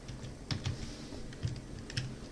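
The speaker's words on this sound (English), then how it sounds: "So I have to type image.png." Short bursts of keystrokes on a computer keyboard as a filename is typed, a few clustered clicks spaced over a couple of seconds, close and moderately quiet with no voices.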